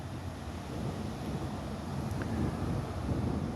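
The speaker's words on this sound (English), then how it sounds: "It's a little windy." Steady wind gusting outdoors buffets the microphone with a continuous low rumbling roar that swells slightly toward the end, with no voices.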